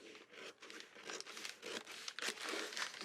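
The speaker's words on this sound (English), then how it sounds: "Now you can go in with your scissors" Close, crisp snips and paper rustling as scissors cut through a sheet, soft and quiet with no talking.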